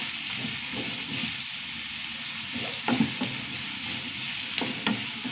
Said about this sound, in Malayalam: നന്നായി വഴണ്ട് വരട്ടെ ഉള്ളി നന്നായി വഴണ്ട് വന്നു